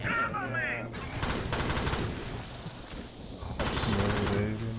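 Rapid automatic gunfire from the sci-fi shooter Alien Swarm crackles in dense bursts with a pause between them, while a player's voice talks over the shooting.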